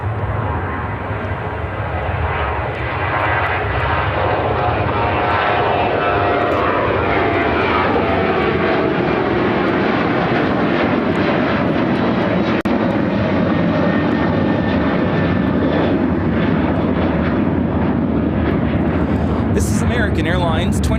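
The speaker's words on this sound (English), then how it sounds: "2359 taking off to Seattle on the 737-800." A Boeing 737-800 airliner takes off for Seattle at Chicago O'Hare, a loud, sustained jet-engine roar that swells and sweeps in pitch as it climbs away nearby.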